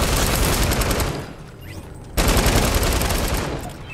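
Rapid gunfire bursts from a weapon-spewing machine in a Fortnite game, loud and dense, cutting out briefly mid-clip before resuming at full volume.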